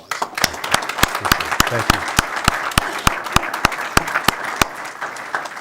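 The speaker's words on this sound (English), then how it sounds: "Let's give him a big round of applause." Hearty applause for John Hutton at a Federal Way city council meeting, with loud, distinct close claps over a crowd of clapping, and a voice briefly speaking during it.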